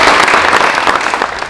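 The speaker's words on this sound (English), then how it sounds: "let's give an applause for Dave." Audience applause at an employee ownership kick-off event, a loud, dense burst of clapping heard close, filling the whole short moment.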